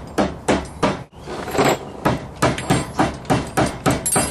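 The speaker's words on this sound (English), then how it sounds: "I'm going to use my rubber hammer." A rubber hammer pounds a nylon-type rubber control arm bushing with steady, evenly spaced thuds, about two blows per second, close and alone after a brief pause.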